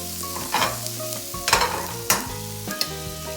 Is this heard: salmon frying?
yes